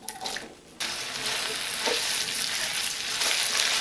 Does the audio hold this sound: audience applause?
no